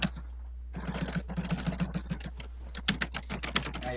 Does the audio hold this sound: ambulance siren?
no